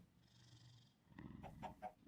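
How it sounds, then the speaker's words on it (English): A contented pet cat purrs softly after being fed salmon, a slight low rumble that swells into louder, closer bursts of purring with a few sharper vocal-like tones near the end. "And you start to purr right away."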